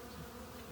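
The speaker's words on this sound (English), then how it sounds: "nectar forager bees" Honey bees buzzing at an open hive during an inspection, a low continuous hum of many insects close by, steady and unbroken for a brief moment.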